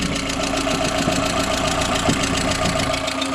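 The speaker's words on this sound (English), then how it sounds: "So it's running. It's got a little bit of lifter noise, but probably just because it sat without running for so long. But it's idling perfect." A VW Beetle engine, started for the first time after sitting in a field for over a year, idles evenly and close by with a light rapid ticking of lifter noise over its steady drone.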